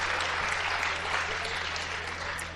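Dense, sustained applause from an audience at a Hindi comedy poetry show, a broad even roar of many hands clapping at once that holds steady throughout.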